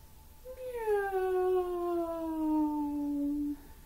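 A person's voice imitates a cat's meow: one long, drawn-out call that slides downward in pitch, heard clearly on its own.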